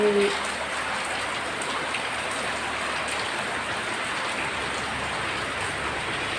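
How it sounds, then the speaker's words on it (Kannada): Steady, dense rainfall pours down outside, a continuous loud hiss of drops with no pauses and no voices. "ಹೊರಗಡೆ ಜೋರು ಮಳೆ ಅಂದರೆ ಜೋರು"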